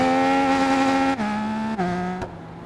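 Triumph Street Triple RS 2020 engine in the Ride 5 racing game, holding a steady high whine that drops in pitch at three abrupt points as if stuck shifting, loud and alone without talk.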